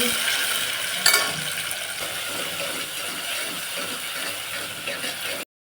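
Chopped onions and tomatoes fry in a pan, giving a soft steady sizzle with scraping and stirring clicks, including one sharper clink early on, before the sound cuts off abruptly.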